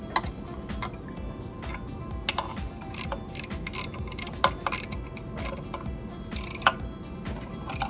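Ratcheting clicks in quick irregular bursts as bolts holding a motor in place are tightened down, close and moderately loud over a steady low mechanical hum, with no talking.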